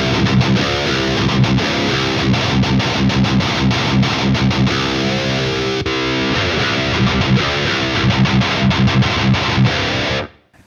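Distorted electric guitar played through a Diezel VH4 amplifier with KT77 power tubes, dense chugging riffs filling the whole stretch at a loud, steady level before cutting off abruptly near the end.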